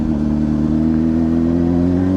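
A Honda CBR600RR motorcycle engine revs hard while accelerating in first gear, a steady loud drone with strong low harmonics held throughout, close and alone with no talk.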